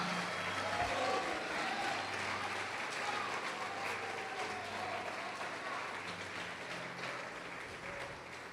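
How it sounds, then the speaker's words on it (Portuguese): A church congregation applauds during a sermon, a steady, fairly distant wash of clapping that holds for the whole stretch with voices mixed in. "Pode aplaudir e glorificar o Senhor."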